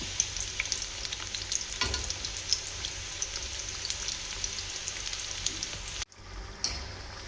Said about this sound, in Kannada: ಇದು ನಮಗೆ ಗೋಲ್ಡನ್ ಬ್ರೌನ್ ಬರಬೇಕು ಕಲರು, ಅಲ್ಲಿ ತನಕ ಕರಿಬೇಕು.